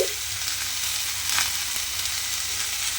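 Tomato frying in a pan while being stirred, a steady close sizzle holding for about three seconds, with faint scraping movements and no talking.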